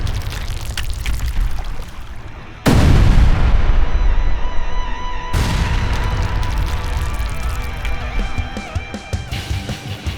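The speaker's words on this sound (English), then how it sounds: "The first step, detonate 250 kilograms of gelatinous dynamite." A 250 kg charge of gelatinous dynamite detonates in a tunnel being driven beneath a mountain of slate, a sudden massive blast that follows a steady rumble and is followed by a second heavy boom, with long roaring reverberation.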